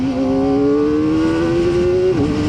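A 2025 Kawasaki Ninja ZX-4RR engine revs high and loud up close, its tone climbing steadily in a smooth, sustained scream before dropping briefly near the end, with no talk over it.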